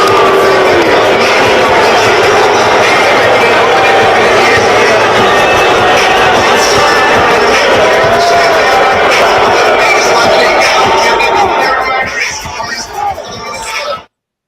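A crowd in a Philadelphia basketball arena boos a player, a dense, continuous roar of many voices that fills the whole stretch before cutting off abruptly at the end.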